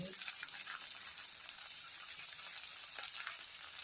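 Small onions sautéing in a pan with salt added, giving a steady, faint, continuous sizzle and crackle with no talk.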